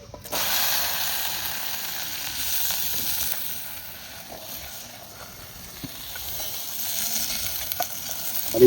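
Food fries in a pan of oil that is drying up on a gas stove, giving a continuous close hiss and sizzle that swells and eases, with occasional faint stirring scrapes.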